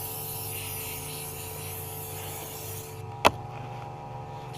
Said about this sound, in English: This silicone spray can only be good, man.